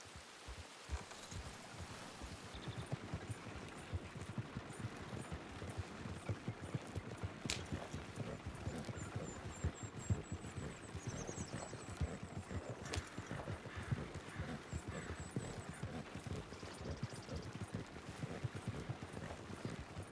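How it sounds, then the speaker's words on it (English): Horse hooves clip-clopping in the Red Dead Redemption 2 roleplay world, a faint, steady stream of soft hoofbeats against rustling outdoor ambience, heard alone without talk. "Was that a horse or something?"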